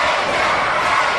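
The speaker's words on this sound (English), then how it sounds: "The crowd picking up the AJ chants" A wrestling arena crowd chants for AJ Styles during his match with Jarrett, a dense, loud roar of many voices that fills the short moment evenly.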